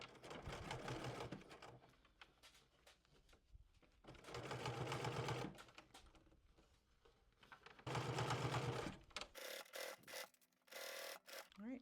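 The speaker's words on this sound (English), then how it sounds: "head over to the machine and stitch down our upper edge first" Sewing machine edge stitching along bias tape on a garment, three loud bursts of rapid mechanical whirring separated by pauses, then a few short clicking stops and starts, close up with no talk.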